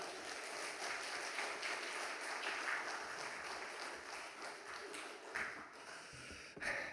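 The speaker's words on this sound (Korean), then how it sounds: "우리 격려와 사랑의 마음을 담아서 힘찬 박수로 맞이하겠습니다" A church congregation at a Wednesday service claps continuously to welcome the pastor to the pulpit, a fairly soft, steady wash of many hands with a few sharper claps near the end.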